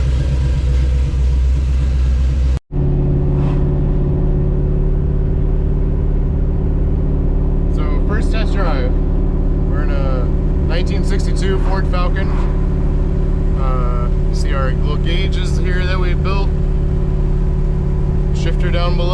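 A 1962 Ford Falcon with Flowmaster mufflers and dump tubes ahead of the axle idles with a steady low, throaty exhaust drone. The rumble holds evenly throughout, with brief speech heard over it partway through.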